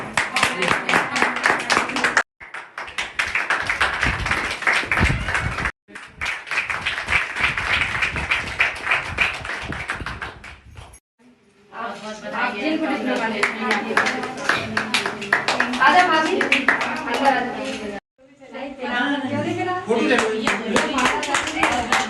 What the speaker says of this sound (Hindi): अरे भैया ताली बजाओ।